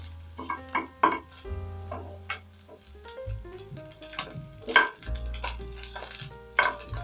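Pork rendering its fat in a frying pan as the pieces are turned: soft sizzling with scattered scraping and clacking of a utensil against the pan, close, with low hum underneath and no talking.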